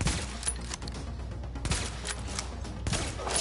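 Dense, rapid gunfire from the video game Tom Clancy's The Division, with overlapping shots and bursts crackling loudly and continuously throughout, with no voices.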